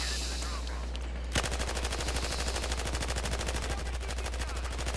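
Rapid automatic gunfire in Battlefield Hardline breaks out after a quieter start and keeps going as a steady, dense rattle of shots over a low constant hum.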